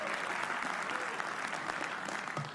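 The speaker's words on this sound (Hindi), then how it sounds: "एक बार बादल के लिए तालियां बजा दो।" A comedy roast audience breaks into dense, steady applause, many hands clapping together at full volume throughout, with faint voices mixed in.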